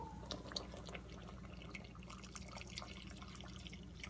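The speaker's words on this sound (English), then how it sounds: "I'm going to put water in and I'm going to add the ingredients." Water pouring steadily into a cooking pot for vegetarian split pea soup, a continuous close splashing trickle with scattered drips, no talking over it.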